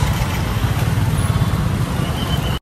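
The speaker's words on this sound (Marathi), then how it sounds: "ट्रॅफिक झाले" Road traffic with motorcycles and cars forms a dense, continuous rumble and hiss of passing engines, loud and close throughout with no clear pause.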